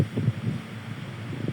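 A steady, breathy whoosh of an electric fan turned up to high speed close by, with soft rustling and no voices.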